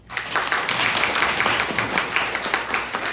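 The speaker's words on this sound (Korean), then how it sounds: "박수 한번 보시죠" A crowd claps in sustained applause at a Lions Club installation ceremony in Seongsanpo, Jeju, loud and even, for about three seconds.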